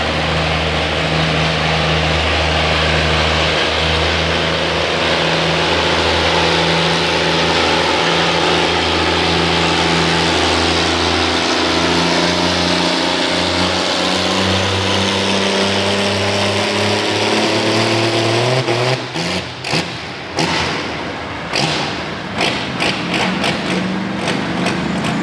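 Antique tractor engine at an East Tennessee antique tractor pull roars loudly and steadily, its pitch slowly rising under load, then breaks into choppy sputters and bursts as the pull ends.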